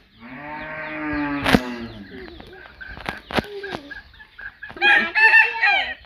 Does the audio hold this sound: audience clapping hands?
no